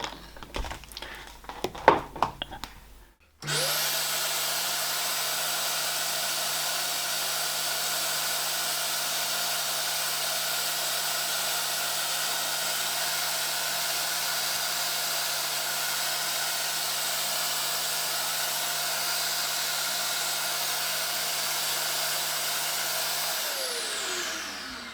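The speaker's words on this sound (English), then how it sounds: "we've got our vacuum system here" A model railway ballast vacuum with collector bottle and vacuum head switches on and runs as a steady, loud whine for about twenty seconds, then winds down; brief clattering handling noises come before it starts.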